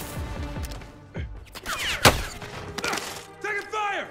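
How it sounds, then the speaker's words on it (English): Video game gunfire rings out in sharp bursts of shots and thumps, loud and close, scattered irregularly across a few seconds with brief pauses and some electronic game sounds between volleys. "Taking fire!"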